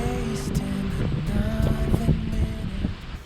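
A sailboat under way off Greece rides a gusting wind, with steady rushing air and water washing against the hull and a low rumble throughout, no one speaking.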